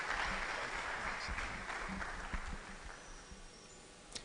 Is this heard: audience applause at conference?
yes